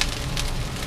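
Rice sears in a hot oiled pan for Chinese char siu roasted pork fried rice, a steady, close, crackling sizzle with no talking.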